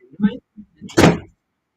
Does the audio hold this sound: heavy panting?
no